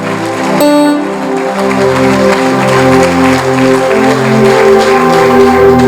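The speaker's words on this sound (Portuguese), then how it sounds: "Aplauda e glorifica o nome do Senhor" A church congregation applauds in worship, steady clapping blended with loud, sustained tonal music or voices throughout, strong and close.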